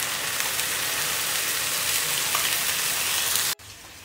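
Canned sardines hit hot oil with a loud, steady frying sizzle that fills the whole clip, then cuts abruptly to a quieter hiss near the end.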